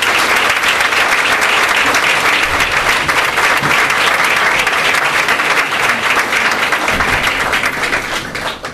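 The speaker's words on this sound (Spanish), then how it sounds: "Así que con todos vosotros, Modesto Ramiro, un aplauso." Loud, sustained applause from an audience at a Día de Andalucía event in the Casa Andaluza de Leganés hall, many hands clapping in a thick, steady roar that tapers slightly at the end.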